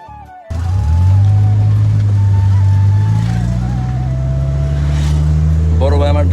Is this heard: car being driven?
yes